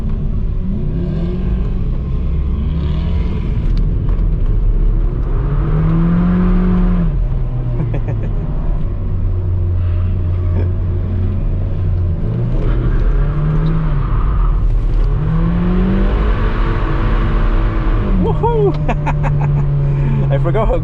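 A Mazda MX-5 revs hard during a tandem drift on a track, its engine rising and falling loudly through repeated throttle sweeps, with voices talking over it.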